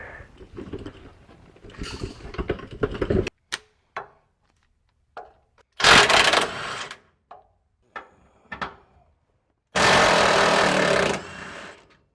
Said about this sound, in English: if you guys don't have a cordless impact, definitely recommend this Milwaukee